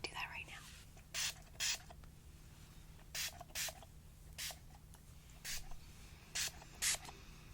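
Hair spray is pumped onto damp hair in short, sharp hissing bursts, mostly in pairs, close and crisp against a quiet background.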